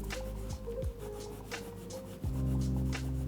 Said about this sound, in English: Wiping this way,